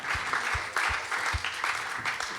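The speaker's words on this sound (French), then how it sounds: "On peut les applaudir, bravo messieurs." An audience at an award ceremony claps for the winners, steady clapping with a few low thumps marking a regular rhythm.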